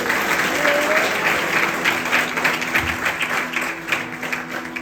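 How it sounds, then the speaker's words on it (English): Audience at a Hindu yagna ceremony breaks into steady, dense applause, close and sustained for the full stretch with a slight easing toward the end. "Give a nice round of applause."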